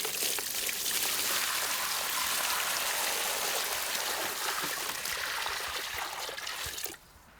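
Water pours steadily and loudly from buckets into an old bathtub set as a garden pond, a continuous rushing splash that cuts off abruptly near the end.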